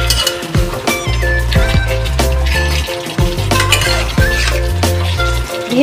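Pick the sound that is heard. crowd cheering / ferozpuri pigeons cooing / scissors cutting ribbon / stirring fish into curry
stirring fish into curry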